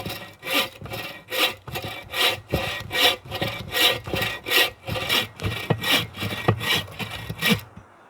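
Hand saw cutting firewood with slow, even back-and-forth strokes, about a dozen rasping pulls in a steady rhythm, close and loud, ending as the cut finishes.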